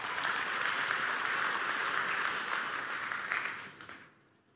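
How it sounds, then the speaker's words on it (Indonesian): A church congregation applauds during an Indonesian sermon, a dense, steady wash of clapping that holds for about four seconds before fading away at the end. "Tepuk tangan."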